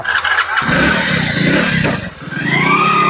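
A motorcycle engine sputters, catches and then revs steadily, loud and close, with the pitch rising toward the end.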